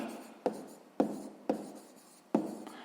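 Pen or chalk writing out math notes for a sixth-grade exercise, four distinct scratchy strokes spaced about half a second apart, close and fairly quiet with no talking.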